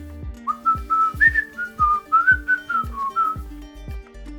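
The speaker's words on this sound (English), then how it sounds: "the cook's whistle was considered a good thing" Someone whistles a short, clear melody of about a dozen sliding notes, loud and close, with light rhythmic thumps beneath it.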